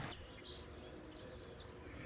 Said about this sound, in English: That's a yellow warbler.